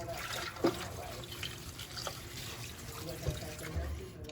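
A quart of water poured into an electric roasting pan holding a pot roast, a continuous trickling splash with a few louder glugs, fairly close.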